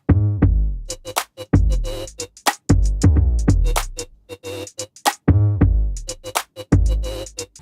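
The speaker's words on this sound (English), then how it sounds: "So after applying some vinyl distortion on my 808 for some stereo effects, the second half of the track sounds like this." A hip-hop beat whose 808 bass carries vinyl distortion for a stereo effect, with deep booming bass hits that slide downward alongside punchy drum hits in a steady, loud, choppy rhythm with short gaps between phrases.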